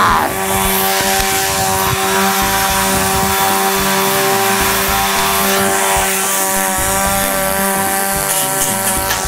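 A chainsaw being juggled runs continuously at high revs, loud and close, its buzzing engine steady throughout with slight fluctuations in pitch.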